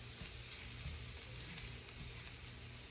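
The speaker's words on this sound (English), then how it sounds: "So I just want the garlic to be fragrant. I don't need it to really saute that much." Garlic sautéing in a pan for homemade steak and shrimp hibachi, a faint, even sizzle at low volume running steadily throughout, with no talking over it.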